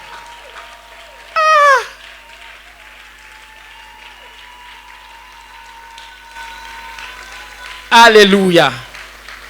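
A church congregation during a Sunday morning sermon bursts into two short, loud rounds of acclaiming cheers with raised voices, one early and one near the end, separated by a quiet stretch of room hum.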